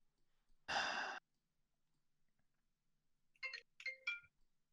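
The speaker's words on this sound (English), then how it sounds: "Who the fuck is calling my work phone?" A work phone rings with two short chirping electronic bursts in quick succession, heard after a loud sigh in an otherwise quiet room.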